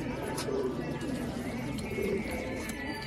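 Pigeons in a loft, soft repeated low coos from several birds close by against steady background hum, faint chirps mixed in.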